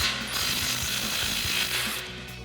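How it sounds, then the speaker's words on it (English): A hand ratchet with a 21mm socket loosens the forward lower control arm nut on a 2011-2019 rear-wheel-drive Dodge Charger, giving a rapid, close run of metallic clicks with no talking. "Next, we're going to remove the nut for our forward lower control arm."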